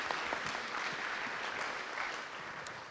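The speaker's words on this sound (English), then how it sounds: "Give them a round of applause." Audience applause at a talk on building trust, a steady wash of many hands clapping at moderate volume, even and unbroken for a few seconds.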